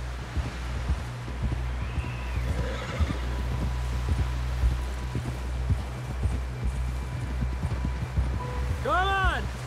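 Horse hooves in Red Dead Redemption 2 give a steady rhythmic clatter under a constant low game rumble, with a horse's whinny near the end and voices talking over it.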